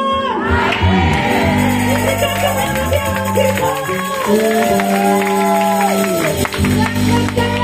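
A church congregation at a worship service cheers and shouts hallelujah together, a dense crowd roar with sustained voices and whoops running continuously, loud and close throughout.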